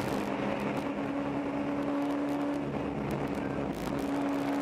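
Race car engine held at full throttle during a ChampCar endurance race, a loud, steady, high-pitched drone that keeps going unbroken with a slight pitch shift, coming from a car pulling hard down a hill out of a corner.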